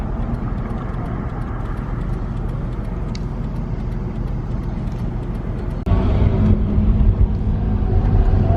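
Continuous street traffic rumbles along Hollywood Boulevard, with cars and tour buses passing close by; the engine drone holds steady, then swells noticeably louder near the end as a heavier vehicle comes through.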